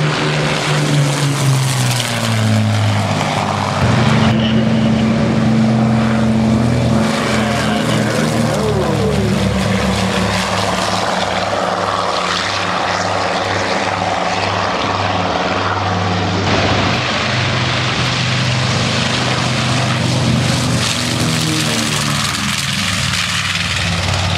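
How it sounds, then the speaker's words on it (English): Canadian Avro Lancaster Mark 10 propeller bomber droning loudly overhead at a beach airshow, a steady multi-engine roar with shifting pitch as it passes, continuous throughout with no talk. "So Canadian Avro Lancaster Mark 10."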